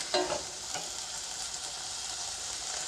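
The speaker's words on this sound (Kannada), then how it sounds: "ಇದು ಈಗ ಚೆನ್ನಾಗಿ ಫ್ರೈ ಆಗಿ ತರಕಾರಿ ಎಲ್ಲ ಸ್ವಲ್ಪ ಮೆತ್ತಗೆ ರೋಸ್ಟ್ ಆಗಬೇಕು" Vegetables for a pasta dish fry and sizzle in a pan with a steady hiss, while a few stirring scrapes and clinks stand out near the start.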